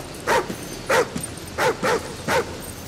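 Riley, a dog companion in the video game Call of Duty Ghosts, barks five times in an uneven rhythm, each bark loud and close against a low, steady background.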